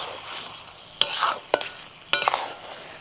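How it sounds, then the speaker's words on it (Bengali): Sugar being stirred into basanti pulao, the sweet yellow Bengali rice, in close, scraping strokes that come as three distinct bursts of stirring. "দিয়ে দিচ্ছি চিনি, চিনিটা ভালো করে মিশিয়ে দেবো।"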